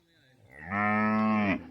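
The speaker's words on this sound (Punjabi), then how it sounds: "ਗਾਂ ਇੱਕ ਹੈ ਤੇ ਦੋ ਹੈ ਮੱਝਾਂ" A cow lets out one long, loud moo, close by, on a Punjabi farm where a cow and two buffaloes are kept together, with no voices over it.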